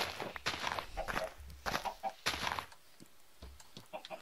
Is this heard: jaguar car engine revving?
no